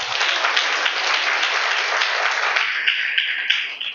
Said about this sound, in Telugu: క్లాప్స్ కొడు గట్టిగా.